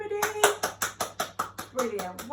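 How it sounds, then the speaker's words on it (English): Adults clapping hands together in a baby class, about ten quick even claps in a row, close and clear, with someone talking and humming over them. "And a little clap for everybody."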